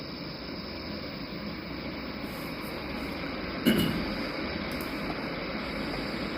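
A military jet's engine roars steadily at full power before takeoff on a highway emergency landing strip, a broad continuous rumble with a brief louder surge midway.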